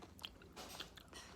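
Close crunching bites and chewing of crunchy Dubai chocolate, a few crisp snaps in quick succession, quiet and intimate with no talking.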